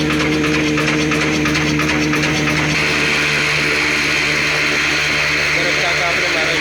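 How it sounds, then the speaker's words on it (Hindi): An 18 HP Kala desi diesel engine from the Pak company runs an atta chakki flour mill with a steady, close, droning hum and broad mechanical rattle throughout, with talk over it. "पाक कंपनी का काला देसी डीजल इंजन 18 HP का जो कि इस टाइम चल रहा है आटा चक्की से।"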